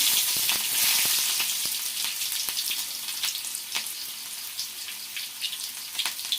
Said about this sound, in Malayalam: നമ്മൾ ചെറുതായിട്ട് ഉള്ളി കട്ട് ചെയ്ത് വെച്ചതും കൂടി ഇട്ട് കൊടുക്കുകയാണ്.